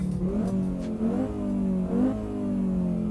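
A 1994 Audi Sport Quattro's 5-cylinder engine revs repeatedly, its mid-pitched growl rising and falling in three close, loud blips over a few seconds, with no talk.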